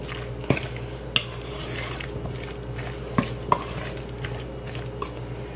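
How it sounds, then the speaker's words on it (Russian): Tomato and white cheese salad is stirred in a bowl with a utensil, a steady soft churning broken by several sharp clinks of the utensil against the dish, with no talking. "перемешиваем."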